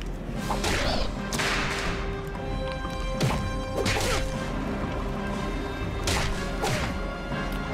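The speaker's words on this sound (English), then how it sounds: "Do they make Johnny Test whip crack noises?" Sharp whip cracks from an attack in The Legend of Spyro: The Eternal Night video game, several loud snapping hits at irregular intervals over busy game sound.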